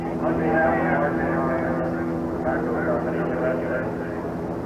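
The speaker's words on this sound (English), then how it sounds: "the command has been given to fire the engines" Forty-two NASCAR stock car engines fire up at the start of the 1987 Winston Western 500 race, a continuous loud roar under a commentator's voice.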